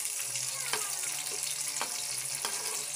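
Vegetables fry in hot oil with a steady, bright sizzle and hiss that runs throughout, broken by a few sharp clinks of a utensil against the pan.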